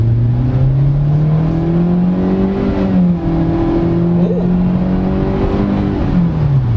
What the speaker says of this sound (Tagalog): So driving this 2022 Chevrolet Spark CVT.